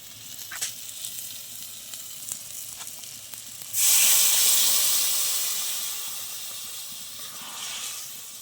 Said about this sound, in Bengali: এবার বাটি ধুয়ে অল্প একটু জল দিয়ে দেবো।